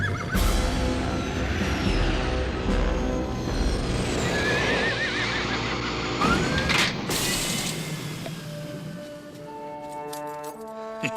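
Horses whinny loudly amid clattering, ratcheting mechanical noise, with hooves and shrill neighs rising over a busy, dense background.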